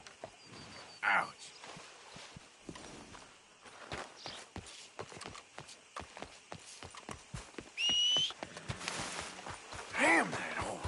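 Horse hooves clip-clop in a steady walking rhythm, with scattered knocks, a couple of short whistles and a brief whinny-like cry near the end.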